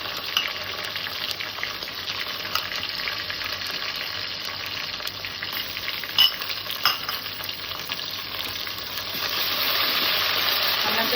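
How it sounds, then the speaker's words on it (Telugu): Ginger paste sizzles and crackles steadily in a hot pan while being stirred, a continuous close frying hiss with occasional scrape taps, growing slightly louder near the end. No talking. "అల్లం పేస్ట్ వేసుకొని మంచిగా కలుపుకున్నాం"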